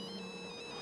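Phone ringtone from a scene in the zombie comedy film Shaun of the Dead, a steady electronic tone ringing continuously and fairly loud for the whole short stretch.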